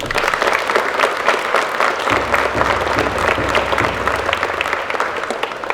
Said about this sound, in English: I want for the class to give yourselves a round of applause for your accomplishment